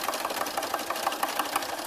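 A sewing machine running a triple step zigzag topstitch on fitted leggings, a steady rapid mechanical stitching rhythm with repeating needle ticks, close and continuous for the whole stretch.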